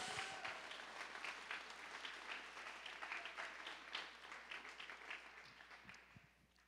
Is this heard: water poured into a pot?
no